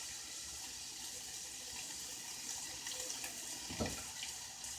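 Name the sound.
water filling a measuring cup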